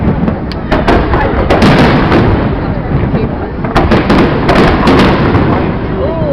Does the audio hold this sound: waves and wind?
no